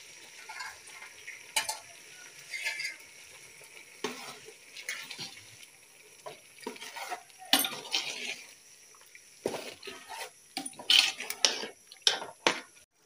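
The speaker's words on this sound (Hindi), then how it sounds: "बेगम साहब बर्तन धो रही है" Dishes being washed: steel pots, plates and utensils clink and clatter in irregular bursts, with occasional water noise, fairly faint and close, no talking.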